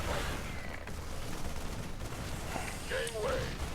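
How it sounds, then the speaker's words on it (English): Units opening fire on enemy buildings in the StarCraft video game, a continuous rattle of game gunfire and blasts filling the mix, with a short electronic tone near the end. "we should be able to just march in here and shoot down all their buildings"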